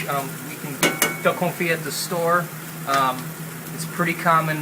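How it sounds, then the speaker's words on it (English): Red onion and cremini mushroom sizzle in a pan with occasional stirring clinks, a steady frying hiss sitting beneath a person talking throughout. "So we're just going to do a nice quick saute of some red onion and some cremini mushroom."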